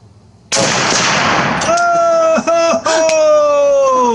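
A loud, sharp rifle shot from an M1 Garand fired at a target with iron sights, one abrupt blast followed by a long ringing tail, a metallic ping and echoes.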